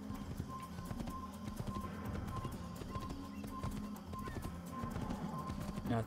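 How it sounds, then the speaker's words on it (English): A horse gallops in the Assassin's Creed video game, its hooves clip-clopping in a quick, steady rhythm that stays close and even throughout. "Just a guy in a white robe on a horse."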